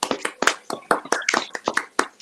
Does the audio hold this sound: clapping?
yes